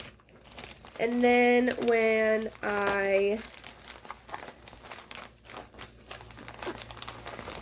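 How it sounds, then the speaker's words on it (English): Plastic polymailer crinkling and rustling as bubble-wrapped items are pushed inside, close and fairly loud, with someone talking briefly over the start of the packing. "I'm going to stick these down in this Polymailer"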